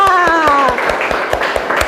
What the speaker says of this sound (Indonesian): Ya, tepuk tangan semua.